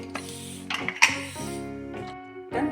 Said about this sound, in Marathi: गॅस कुकरला झाकण लावते